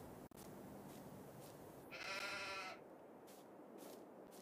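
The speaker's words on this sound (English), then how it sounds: "that's a sheep." A single sheep on a farm gives one short, distant bleat, faint over steady background noise.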